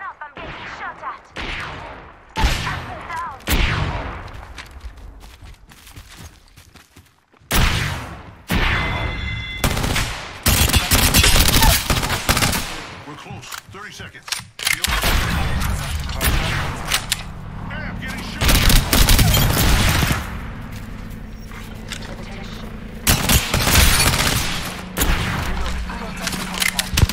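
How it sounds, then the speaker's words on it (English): Gunfire in the battle royale game Apex Legends: rapid bursts of automatic shots and sharp impacts, loud and close, broken by brief pauses and mixed with people talking. "Listen up, I'm getting shot at."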